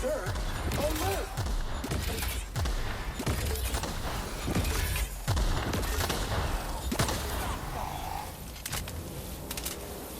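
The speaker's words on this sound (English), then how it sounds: "Do enjoy my plasma cannon." Repeated heavy energy-weapon blasts from a plasma cannon in the video game The Outer Worlds, firing in a rapid string of sharp booming shots over dense combat noise, with voices heard in the mix.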